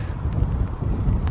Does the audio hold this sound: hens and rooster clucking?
no